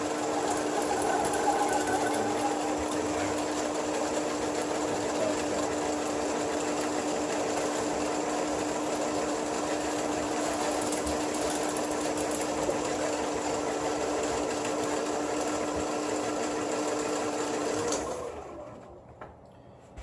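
A Makira 80W fishing reel spooling up line on a powered winder, a loud steady mechanical whir with a constant pitch that runs unbroken for most of the span before winding down and stopping near the end.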